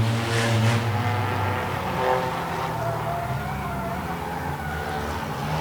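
High school stock cars, including the Fry Trucking Chevy Malibu, race in a heat, their engines a loud, steady roar with shifting harmonic drones as the cars pass.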